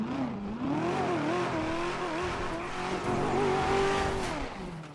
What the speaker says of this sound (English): Just listen to how this car sounds.